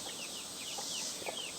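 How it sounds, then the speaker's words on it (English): A hen on a backyard coop clucks in short soft bursts, mixed with faint fowl sounds over steady background noise. "Vicki Lawrence is a fierce mama hen."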